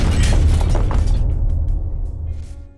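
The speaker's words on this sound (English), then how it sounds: "Oh, and the occasional explosion." A loud explosion in The Station space game, a heavy booming blast with crackling, shattering debris that rolls on and slowly fades into a low rumble.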